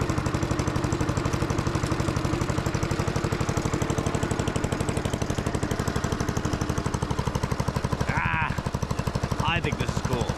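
The engine of a Gravely 1300 tractor warms up with a steady, close-up mechanical chugging that stays even throughout, broken only by a couple of brief squeaks.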